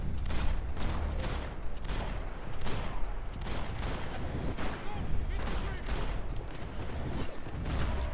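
Dense, continuous gunfire from Max Payne 3, rapid shots overlapping into a steady loud clatter throughout, with a voice speaking beneath it.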